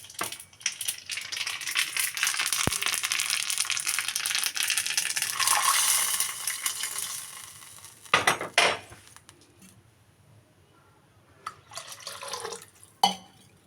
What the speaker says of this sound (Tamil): கடுகும் வெடிக்கிறது.